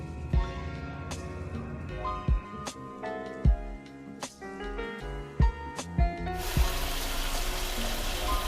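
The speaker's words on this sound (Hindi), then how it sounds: "थोड़ा सा पानी डालकर भूनेंगे।" Water splashes into a pan of frying tomato and spice masala for Punjabi rajma, with scattered clinks and knocks of utensils and a steady sizzle that swells to a loud hiss near the end.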